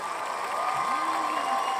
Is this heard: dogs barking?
no